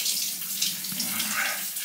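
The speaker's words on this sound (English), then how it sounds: "let me enjoy this cold shower" A cold shower runs steadily, water hissing and splashing without a break, close and fairly loud, with no voices.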